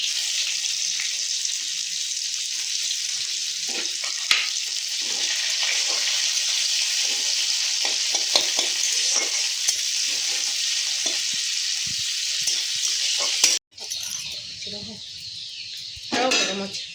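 Onions fry in a pan with cumin and dried chilli, a steady bright sizzle with scraping stirs throughout, cut off briefly near the end before resuming; voices talk over it.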